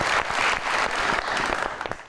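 Studio audience applause welcoming guest Arbaz Khan onto a Pakistani talk show set, a dense steady burst of clapping that fades slightly toward the end, with faint voices underneath.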